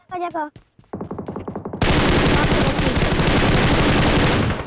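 Sustained automatic gunfire in the mobile battle royale game PUBG Mobile erupts loudly after brief opening chatter and then runs continuously as a dense, rapid stream of shots to the end.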